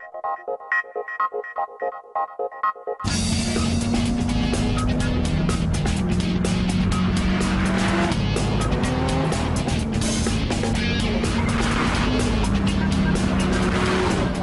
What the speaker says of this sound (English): On the move in an F40 Ferrari.